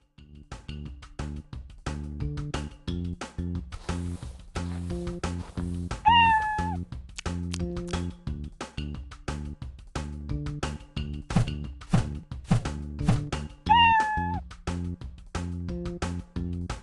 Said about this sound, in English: It looks like she wants to take a look inside and play. You can feed, brush, or play with Bubble Kitty.